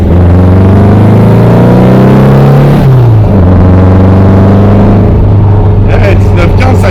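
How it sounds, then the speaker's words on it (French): A 1962 Volkswagen Beetle ragtop with a 1915 cc engine runs loud and close, its steady air-cooled drone shifting pitch as revs rise and fall, with voices talking over it. "le petit 1915 qui fait du bruit, vous l'entendez un petit peu, je pense"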